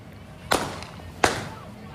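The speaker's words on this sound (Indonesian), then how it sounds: "Polisi melepaskan tembakan peringatan karena pelaku hendak melarikan diri" Two sharp cracks of police warning gunshots, about three quarters of a second apart, fairly distant and faint, with no talk between them.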